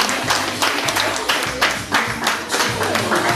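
Dense, steady applause from a live audience at a celebrity stage show, many hands clapping close by with a low hum of talk beneath.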